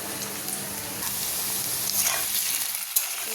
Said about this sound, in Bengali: দেখো পেঁয়াজ, ডাটা, আলুটা মোটামুটি ভাজা হয়ে গেছে।